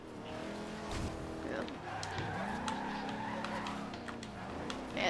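A car with 718 horsepower drifting with its tires spinning in the video game Forza Horizon 2, engine revs climbing and dropping under a rising tire squeal, with people talking over it.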